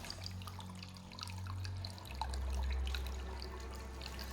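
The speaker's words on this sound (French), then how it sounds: "petite rivière qui va bien." Small underground stream flowing through an abandoned mine: a faint, steady trickle and patter of water with a low rumbling drone underneath, quiet and continuous, with no voices.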